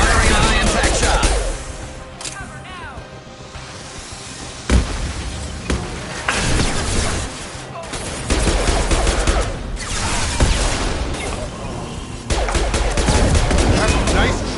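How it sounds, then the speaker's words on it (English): Mass Effect 2 combat erupts in dense, loud gunfire, with sustained automatic bursts and sharp impact shots interrupted by a few short pauses, set against a continuous battle background. "Firing a high impact shot."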